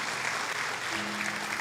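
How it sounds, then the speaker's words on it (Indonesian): A church congregation claps briefly in a steady, even wash of many hands, fairly faint and distant, lasting under two seconds. "Kita kasih tepuk tangan."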